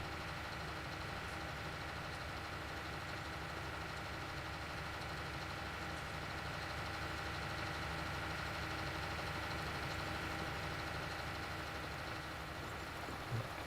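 A tractor engine drones steadily while dragging a plough in Farming Simulator 19, a continuous mid-pitched hum at even loudness with no voices.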